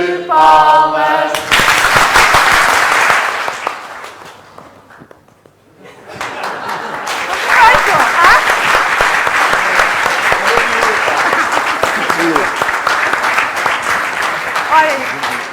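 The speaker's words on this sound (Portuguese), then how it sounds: "salva de palmas" An audience applauds warmly in a loud, sustained burst right after a short spoken line, dips briefly into near quiet, then swells again into long, dense clapping mixed with some laughter.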